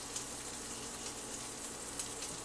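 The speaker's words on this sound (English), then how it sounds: "you want to flip that rosemary. That is just flavoring this bacon fat so beautifully." Rosemary frying in hot bacon fat in a pan, a steady close crackling sizzle with small pops throughout.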